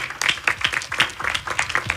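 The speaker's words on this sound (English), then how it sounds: "Another round of applause." An audience claps at a talk, a sparse, uneven patter of hand claps running steadily throughout at moderate loudness.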